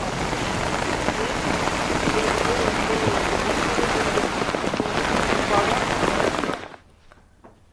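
Loud, dense downpour of heavy monsoon rain in Khanapur, Belagavi, Karnataka drums steadily, then cuts off abruptly to near silence at the end.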